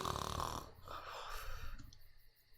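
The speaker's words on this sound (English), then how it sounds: "I can hear him snoring softly" Someone sleeping breathes in a soft, raspy snore, a single drawn-out inhale that fades into quieter breathing, close and gentle.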